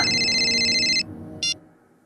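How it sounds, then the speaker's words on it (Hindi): A phone ringtone chimes loudly, then stops abruptly, followed by a short electronic beep a moment later. "फोन को भी इसी टाइम बजना"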